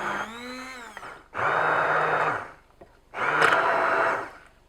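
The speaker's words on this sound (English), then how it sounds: "So then we're just going to get our stick blender into the jar." A stick blender whirs in a jar of avocado sauce, running in three separate bursts with short pauses between them, the motor's steady whine loud and close.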